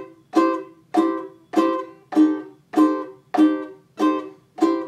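Swing-style ukulele bar chords strummed in a steady rhythm, each strum cut short as the grip loosens to mute the strings, giving eight crisp, evenly spaced choppy hits, close and alone.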